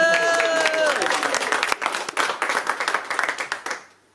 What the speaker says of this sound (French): je vous demande de m'applaudir quand même